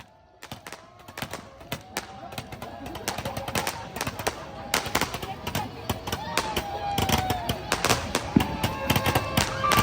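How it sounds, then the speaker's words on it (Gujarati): Firecrackers burst during Uttarayan kite festival celebrations in rapid, irregular volleys of sharp cracks and pops, growing denser and louder, with voices faintly underneath. "અત્યારે અમે ફટાકડા ફોડી રહ્યા છીએ"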